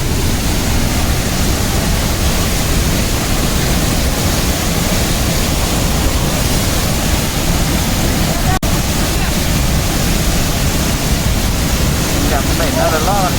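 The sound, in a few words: Urumbikara waterfall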